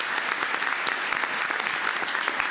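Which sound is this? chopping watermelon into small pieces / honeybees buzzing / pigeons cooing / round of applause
round of applause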